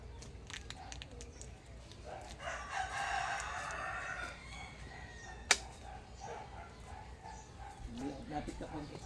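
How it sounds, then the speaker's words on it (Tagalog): A rooster crowing at some distance outdoors, a drawn-out call heard under close conversation, with dogs and other noises around it. "Manok yan. Yan yung manok."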